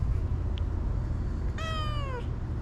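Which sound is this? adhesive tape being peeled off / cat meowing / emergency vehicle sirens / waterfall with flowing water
cat meowing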